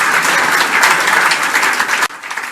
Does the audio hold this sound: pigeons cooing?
no